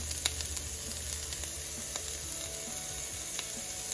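Bitter melon slices with turmeric, coriander powder, red chili powder and sugar sizzle and fry in a hot pan for a cashew stir fry, a steady close crackle with a few light clicks and scrapes.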